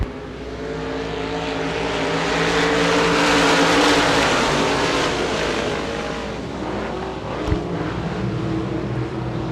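A field of USA Limited Modified race cars roars off at the start of a race at Devils Bowl Speedway, a loud, dense engine drone swelling and then easing as the pack passes.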